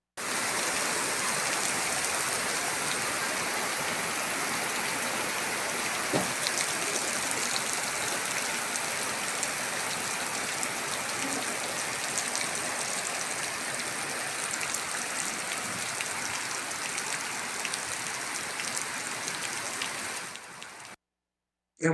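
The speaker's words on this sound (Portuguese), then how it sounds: "Espírito Santo com chuva registrada lá em Barra do São Francisco" Rain pours down on a farm in Barra do São Francisco, Espírito Santo, Brazil, as a dense, constant hiss of heavy rainfall. It holds at nearly steady loudness for about twenty seconds before cutting off abruptly.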